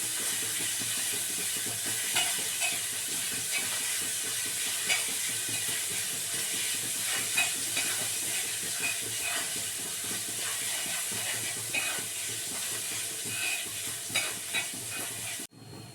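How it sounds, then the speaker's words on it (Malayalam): Ginger fries in hot oil in a pan with a constant close crackle and sizzle, punctuated by scraping stirs, before a brief clatter at the end. "ഇഞ്ചി നല്ലോണം മൂത്തിട്ടുണ്ട്."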